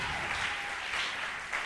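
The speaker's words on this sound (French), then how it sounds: "Est-ce qu'on peut l'acclamer encore beaucoup plus fort?" A church gathering audience applauds and cheers steadily, a dense, even wash of clapping with no pause throughout.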